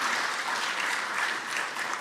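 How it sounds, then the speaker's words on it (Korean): A church congregation applauds to welcome a newcomer at a Sunday worship service, a dense, even wash of many hands clapping alone for about two seconds. "박수로 환영하시도록 하겠습니다"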